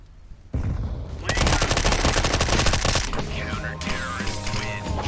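Gunfire in the video game Gunfire Reborn, a sudden start followed by a loud dense stream of rapid automatic shots, close and sustained, with game effects layered on top.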